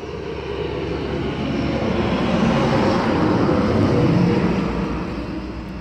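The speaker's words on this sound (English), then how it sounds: "I'm on the side of a highway, so sorry for the noise." Steady roar of highway traffic heard from the roadside, a dense continuous rush that swells slightly and eases off, with no talking.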